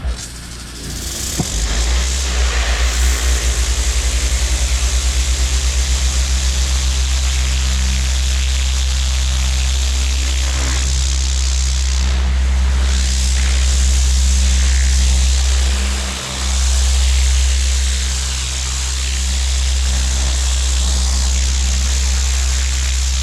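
A pressure washer with a turbo tip spraying and clearing weeds, a steady loud hiss over a constant low engine drone, running almost unbroken throughout with one brief dip.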